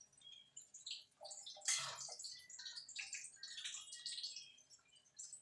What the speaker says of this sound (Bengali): এখানে দুধ দিয়ে দেবো।